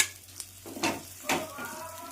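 Hot tempering poured into ridge gourd peel chutney and stirred, a close crackling sizzle with a few sharp spits and a soft scraping stir over a low steady hum.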